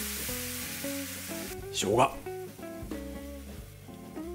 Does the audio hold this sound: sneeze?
no